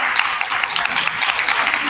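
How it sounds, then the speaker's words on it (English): Teachers receive a round of applause at an elementary school's virtual award ceremony: dense, steady clapping from many hands, fairly loud and filling the whole short stretch with no talking. "let's give them a round of applause"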